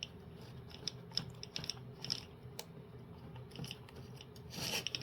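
A screwdriver turns a screw into a nut on a robot chassis, giving small clicking, ratcheting ticks in a loose irregular rhythm, close and fairly quiet.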